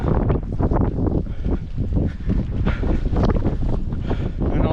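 Strong gusting wind buffets the microphone on the exposed heights of Walltown Crags along Hadrian's Wall, a loud, continuous roar that swells and dips in waves with no speech.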